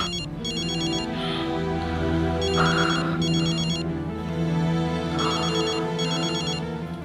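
A telephone ringtone sounds in repeated short bursts of bright trilling, several rings in a row over a steady musical background.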